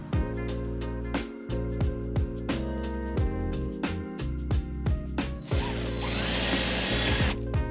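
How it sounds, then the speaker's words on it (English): Power drill boring a hole for a trailer wiring harness mounting bracket on a 2018 Nissan Sentra, loud whirring bursts that start and stop repeatedly, then a sustained high grinding run toward the end. "we'll go ahead and drill a hole on the right side"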